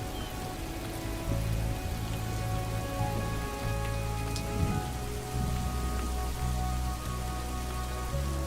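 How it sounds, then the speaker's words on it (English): Heavy rain pours steadily across an open landscape, a dense continuous hiss of drops with a low rumbling undertone, holding even in loudness from start to finish. "Five millimeters of rain falls every day for weeks on end."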